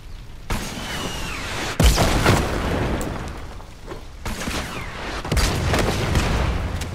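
Rocket launcher blasts go off in the video game Fortnite. Several booming impacts land a few seconds apart, each followed by a rolling rumble over a steady, loud background of game noise.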